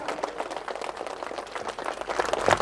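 An audience at a company gathering claps loudly with hands raised, a dense, continuous patter of many hands that swells slightly toward the end.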